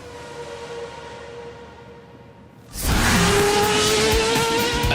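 A Formula 1 race car at speed: a quiet whine of passing traffic suddenly gives way to a loud, sustained high-pitched engine scream as the car roars past close by.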